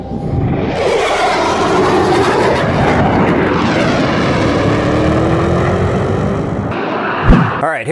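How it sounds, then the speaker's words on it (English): A Turkish F-16 and a Greek Mirage 2000 fighter jet roar loudly and steadily through a dogfight, with a powerful engine drone whose pitch sweeps up and down and then drops off abruptly near the end. "Turkish F-16 locked by the Greek fighter jet."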